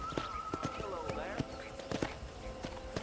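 Horse hooves clip-clopping in a steady rhythm as a rider spurs a horse across a ranch in the video game Red Dead Redemption, with a faint musical tone and in-game ambience running underneath.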